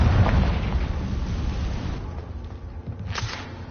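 A loud, close blast of the Confringo fire spell in Hogwarts Legacy, a broad rumbling burst that booms and then tails off, with no talking over it.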